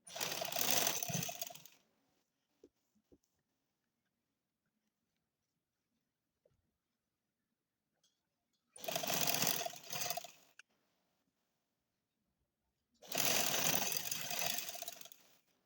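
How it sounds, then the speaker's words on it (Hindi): Sewing machine stitching a tulip shalwar in three separate bursts of rapid mechanical whirring, each a second or two long, close and loud, with faint clicks and near silence in between. "अब यहाँ से जो है हम सिलाई स्टार्ट करेंगे इसकी।"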